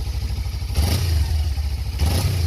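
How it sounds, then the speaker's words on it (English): A Suzuki GSX250R motorcycle engine idles with a low, throbbing exhaust note, then revs up twice in short bursts, loud and close. "I'll give you a little bit of revving action here."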